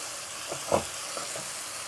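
Fresh parsley sautéing in a pan for a Persian stew gives a soft, steady sizzle, fairly quiet, with a few faint stirring touches.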